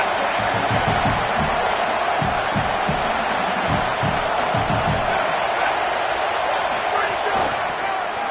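Stadium crowd at an American football game, a loud constant roar of cheering with a thudding low rumble underneath that continues throughout.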